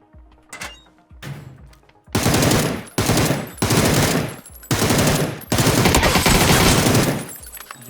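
Loud bursts of rapid automatic gunfire in PUBG, several long volleys with short gaps, preceded by a few lighter clicks and thumps.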